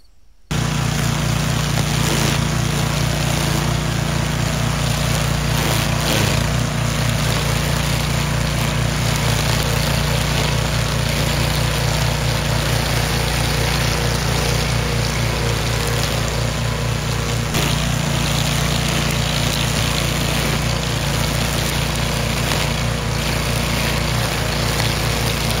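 Toro string mower weed trimmer running along a stone wall, a loud continuous motor whine and buzzing string hum held steady and close throughout with no pauses.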